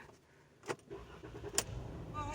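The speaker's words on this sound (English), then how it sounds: "We're going to start the vehicle." A car engine cranks and starts after an injector repair, faint and distant, with a few brief mechanical bursts over a low background rumble.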